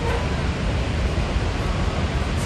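Roar of Niagara Falls: a dense, unbroken wash of rushing water, loud and steady like broad noise, heard from nearby with no clear voices.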